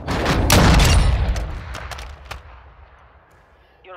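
Gunfire in Warzone 2: a loud burst of rapid shots up front, then scattered sharper cracks fading into quieter distant fire and a faint rattle at the end.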